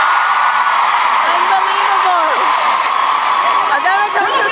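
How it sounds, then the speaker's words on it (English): A crowd at a pop concert applauds and cheers, a steady wash of clapping with whoops and shouting that runs loud and unbroken throughout. "When it comes to eye candy, give them a round of applause!"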